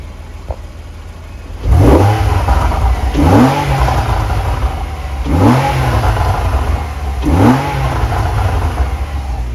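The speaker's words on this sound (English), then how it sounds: "it's dumping unburnt fuel into the exhaust and making that noise" A Porsche engine in sports mode revs four times in a steady rhythm, each loud rise followed by popping, crackling exhaust from unburnt fuel as it drops back.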